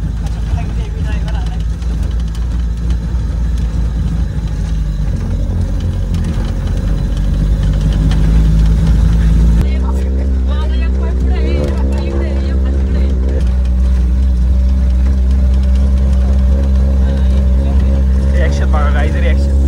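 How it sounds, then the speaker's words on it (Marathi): Off-road vehicle engine runs loud and steady throughout while driving, its tone shifting partway through, with voices talking over it. "गाडी निघाली आहे"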